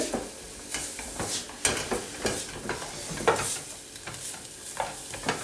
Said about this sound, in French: je jette un petit coup d'œil des échalotes qui sont en train de suer